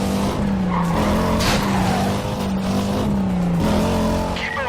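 Race cars in the Need for Speed Carbon video game skid and squeal their tires through a turn, a loud continuous screech layered over roaring engines for several seconds.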